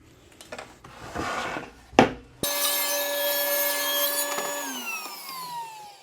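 After some rubbing and shuffling of a board, a table saw spins up with a loud, steady whine and starts ripping a pine 2x8 lengthwise, its pitch dropping as the blade coasts down.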